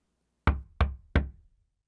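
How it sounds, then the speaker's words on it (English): Three sharp, evenly spaced knocks land on a closed workshop door, close and distinct, with silence before and after. "When I got there, the door was closed, so I knocked."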